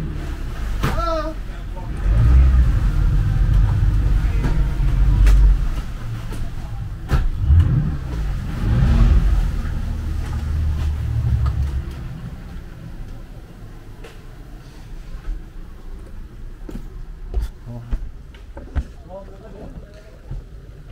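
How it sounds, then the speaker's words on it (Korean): A speedboat seating about twenty people pulls away on a Naka Island boat trip, its engine rumbling loud and steady at first, then easing into a softer running drone as people talk over it. "스피드보트가 떠나고 있습니다."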